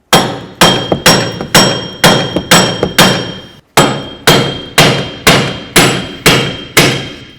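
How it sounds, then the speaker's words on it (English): A hammer strikes repeatedly on a 2007-12 Volvo S40 rear wheel bearing to drive it out of the knuckle, with about a dozen loud, evenly paced metallic blows and a brief pause partway through. "We're just going to bonk along this wheel bearing and separate it from the knuckle area."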